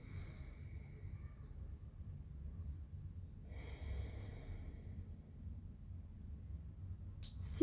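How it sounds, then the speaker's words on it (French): Slow-paced breathing exercise, with long, soft, close breaths in and out through the nose at an even, unhurried rhythm, faint and airy, ending in a brief louder sound. "vous inspirez sur 5 temps. Et vous expirez sur 5 temps."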